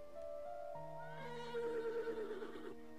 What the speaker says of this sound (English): I hear horses. They don't sound far off.